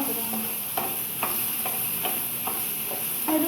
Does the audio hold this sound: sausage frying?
yes